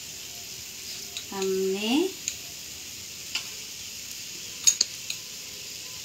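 Onion frying in a pan gives a faint, steady sizzle under a few stirring clinks and a brief spoken word.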